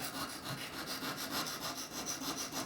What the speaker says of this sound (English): rotating the pen as I rub away. The idea is I'm trying to smooth that tip